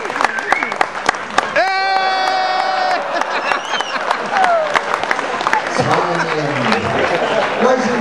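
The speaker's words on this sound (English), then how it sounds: "Give her a warm round of applause." A cruise-ship show audience applauds and cheers loudly for a performer named Mia, with whoops and shouting mixed into steady clapping, while a voice briefly sings or calls out over the crowd.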